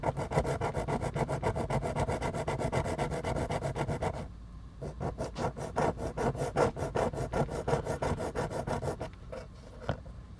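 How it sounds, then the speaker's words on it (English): A file rasps down a rivet on a Japanese Takara G1 Transformers Starscream toy wing. The steady, close back-and-forth strokes run continuously, pause briefly, then resume at a slightly uneven rhythm before another short break. "We're going to file down the rivet halfway."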